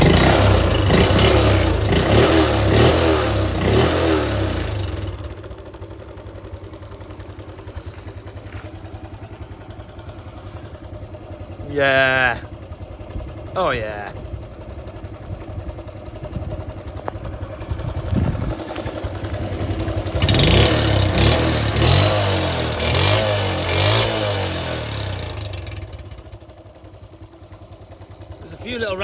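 A Honda Cub C70 classic motorcycle under restoration, with its exhaust loosely fitted, starts and runs close by, idling with a rattly clatter and then revving up in bursts, with a few brief spoken remarks.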